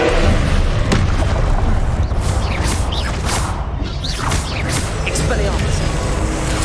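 Confringo blasting spells explode during spell-casting combat in Hogwarts Legacy, giving repeated booms and whooshing impacts within a dense, loud, continuous battle mix.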